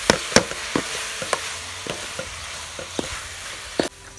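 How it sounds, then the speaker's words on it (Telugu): Coconut laddu mixture being stirred in a pan, a spoon scraping and tapping the metal in irregular knocks roughly every half second over a soft steady sizzle, close and alone. "మనం కలుపుతూనే ఉండాలి, కలపటం ఆపకూడదు."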